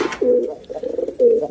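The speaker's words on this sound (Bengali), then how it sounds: "এই হচ্ছে কবুতরের ফিগার" A pigeon cooing close by, two or three soft low throaty coos in quick succession, clear and alone.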